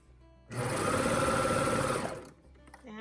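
A sewing machine runs in one steady burst of rapid stitching for about a second and a half on the cuff of a romper hoodie, loud and close, then stops to quiet handling.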